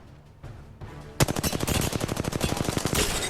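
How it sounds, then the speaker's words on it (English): Enemy gunfire in the Apex Legends video game, rapid automatic bursts erupting after a quieter lead-in and hammering on loudly and steadily to the end. "The enemies are shooting at me."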